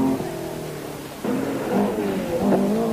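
A Porsche rally car at the 1973 1000 Lakes Rally in Finland accelerates hard, its engine note climbing through several rising revs and gear pulls, loud and close with no voices.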